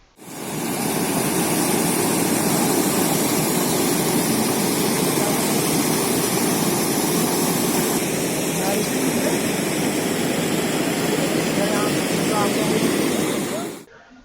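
Floodwater rushes over a newly built village bridge after heavy rain, a loud, continuous roar that fills the whole stretch with no pauses.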